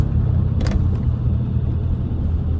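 A Ford F250 OBS pickup with the 7.3 diesel rumbles steadily while driving, a loud, constant low engine drone heard from inside the cab with a couple of brief clicks early on.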